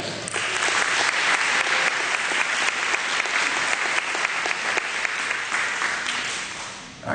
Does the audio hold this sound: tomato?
no